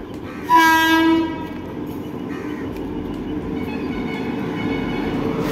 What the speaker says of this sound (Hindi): फाइनली देखो भाई ट्रेन आ गई